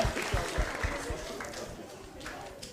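Applause from an audience at a youth council integration day, a dense patter of clapping hands that starts strong and gradually thins, with crowd murmur underneath.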